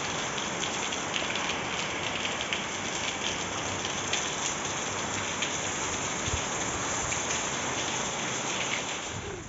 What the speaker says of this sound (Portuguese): A chuva agora veio.